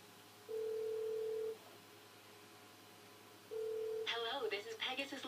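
A phone in the video game GTA 5 plays two steady dial-tone beeps and then a quick run of dialing tones, faint and close with no talk over it.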